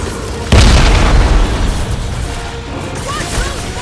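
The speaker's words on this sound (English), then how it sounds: "Watch those bombs!" Bombs exploding during a boss fight in the Guardians of the Galaxy video game on PS5, with one loud booming blast followed by a rumbling, crackling tail and smaller bursts.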